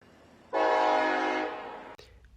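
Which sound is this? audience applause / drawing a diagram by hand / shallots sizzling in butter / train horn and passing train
train horn and passing train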